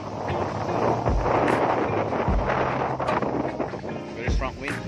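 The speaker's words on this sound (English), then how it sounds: "Very strong wind." Strong wind gusts across an open golf course, buffeting the microphone with a loud, continuous roaring rumble that rises and falls throughout.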